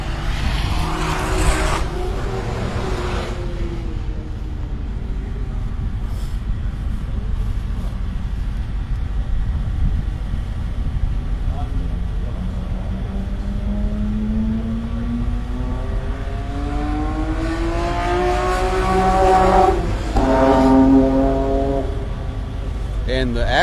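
Acura race car at speed on the Hallett road course, engine note rising and falling through corner exit as the car steps out a little, with a second engine swelling nearby, heard under steady commentary.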